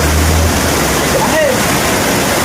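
Loud, steady rushing water from a forest stream fills the whole clip as a continuous roar with no breaks.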